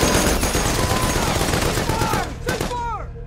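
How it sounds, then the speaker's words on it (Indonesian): Dense gunfire from a jungle ambush of US Marines by Japanese troops on Guadalcanal, a loud continuous crackle of rifle and machine-gun shots with whistling ricochets toward the end, all under a narrating voice. "Tembak lari ini sudah sering dialami oleh barisan John Basilone."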